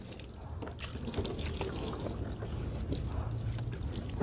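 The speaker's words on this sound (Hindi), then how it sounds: "और सारा जिस्म पे पानी डाला जाए।" Water poured over a body during an Islamic ritual washing of the deceased, a continuous close splashing and trickling flow at steady level, with faint talk in the background.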